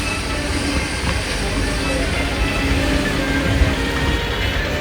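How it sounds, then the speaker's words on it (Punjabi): A train pulling away from Jagadhri railway station makes a loud, constant rumble and wheel noise with no breaks. "ਲੋ ਜੀ ਟ੍ਰੇਨ ਚੱਲ ਪਈ ਸਾਡੀ ਜਗਾਧਰੀ ਰੇਲਵੇ ਸਟੇਸ਼ਨ ਤੋਂ"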